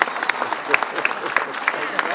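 An audience claps at a city development announcement in Newport News, Virginia, a steady patter of many hands close by, with a voice talking over the applause.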